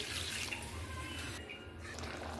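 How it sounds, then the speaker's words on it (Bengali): Water is poured into a pan holding potatoes and prawns for a Bengali gravy, a soft, steady liquid pour and splash running through the short moment with low background hum. "গ্রেভির জন্য কিছুটা আমি জল দিয়ে দিলাম।"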